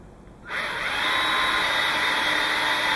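A power drill with a 1/8 inch bit starts abruptly and whines steadily at high speed while boring through wood and into steel pipe, loud and close, running without pause.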